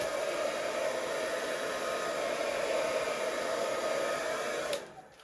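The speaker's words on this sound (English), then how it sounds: "the hairdryer just gives it a lovely sort of waviness" A hair dryer blows on poured acrylic paint with a steady, loud whooshing hiss, then cuts off abruptly near the end.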